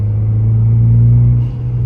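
A modified Ford EcoBoost Mustang with an aftermarket turbo setup rumbles steadily in a low, loud drone from inside the cabin, with a faint higher whistle rising briefly near the end.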